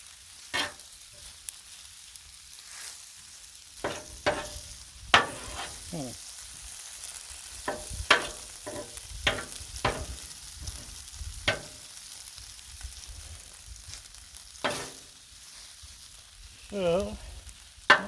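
Beef and noodle stir fry with hoisin on a Blackstone griddle, a constant low sizzle broken by repeated sharp scrapes and clanks of a spatula, with a brief voice near the end.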